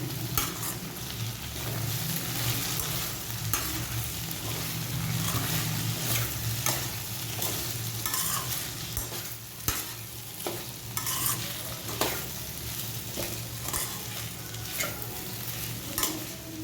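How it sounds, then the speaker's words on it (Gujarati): Okra and potato pieces being stirred in a frying pan with red chilli, turmeric and coriander-cumin powders, a steady sizzle under repeated scraping strokes of a spoon, close and fairly loud, with no talking. "હવે આપણે તેની અંદર લાલ મરચું પાવડર એડ કરીશું, હળદર પાવડર નાખીશું, ધાણા જીરું નાખીશું અને આને મિક્સ કરી લઈશું."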